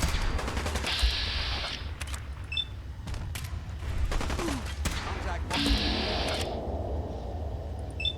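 Gunfire in Fallout 4: scattered sharp shots and short bursts crack at irregular intervals, some louder and closer than others, over a constant low rumble.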